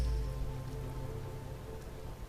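Soft rain falling over a landscape in a calm relaxation setting: a faint, steady patter of drops on surfaces continues evenly throughout beneath a low background hum, with no voices.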